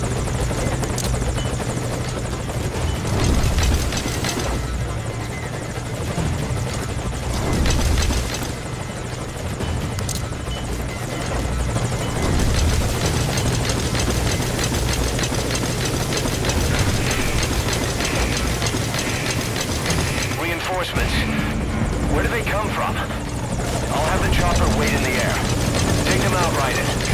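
Helicopter rotor thrumming steadily and loudly throughout, with mechanical whirring layered in, from a searchlight chopper in the stealth game Metal Gear Solid V: Ground Zeroes; voices speak briefly over the continuous drone.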